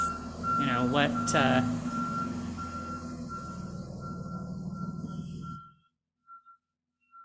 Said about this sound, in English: that beeping is at mine. There's someone like driving around in reverse apparently